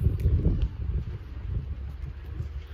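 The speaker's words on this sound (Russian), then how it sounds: "У нас прям какой-то порывистый ветер" Gusty wind buffets the microphone in uneven low rumbles, rising and easing over a few seconds, with faint rustling and no talking.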